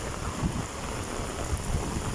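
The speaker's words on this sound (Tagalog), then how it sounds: "Lumakas na naman ang ulan." Heavy rain pours steadily on flooded streets along Shaw Boulevard, Mandaluyong City, a dense continuous hiss with low rumbling underneath and no voices.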